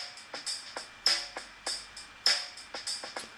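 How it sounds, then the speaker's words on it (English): Preset R&B drum pattern played back from a metronome app during a rhythm lesson: a steady groove of crisp hi-hat ticks with heavier accented hits roughly every 1.2 seconds, fairly quiet and heard alone without voices. "So, nice standard R&B drum beat."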